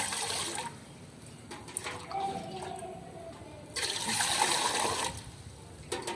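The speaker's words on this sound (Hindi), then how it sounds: "हम इसमें जो पानी डालेंगे पतीले में" Water rushes and splashes into a cooking pot in bursts, with trickling and dripping between pours, nearby with no talking.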